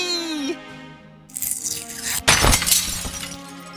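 A stained glass window shattering in the adventure game Deponia Doomsday: a sudden loud crash of breaking glass after a quieter tonal passage, followed by a spray of tinkling shards that fades out.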